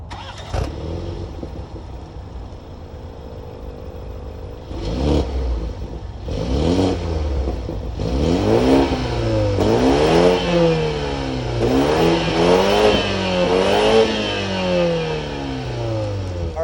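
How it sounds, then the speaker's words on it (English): A 2022 BMW 530i with a 2-liter turbocharged four-cylinder cranks and fires, settles into idle, then is revved repeatedly in rising and falling sweeps, loud and close. "let's start this 2022 BMW 530i up. And hear how this 2-liter turbo 4-cylinder sounds."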